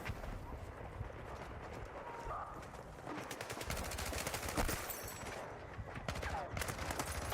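Rapid bursts of video game gunfire crackle through a busy multiplayer match, quick automatic volleys that grow louder midway, set against a constant low rumble of game noise.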